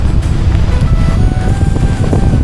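A strong headwind buffets the microphone of a cyclist riding along a tree belt beside a field, producing a loud, continuous low roar with gusty fluctuations and no voices.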